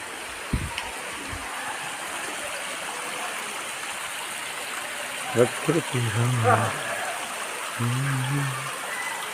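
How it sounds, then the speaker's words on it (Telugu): Mountain stream water at Mulakona flowing down from above makes a steady broadband rush throughout, with a few brief voices and tonal sounds rising over it in the second half. "ఇక్కడ మూలకోన నీళ్ళు, పైన వచ్చిన నీళ్ళు."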